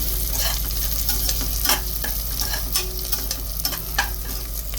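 Green chilies frying in hot oil in a pan while being stirred, a steady close sizzle with scraping strokes from the spoon breaking through now and then; no one talks.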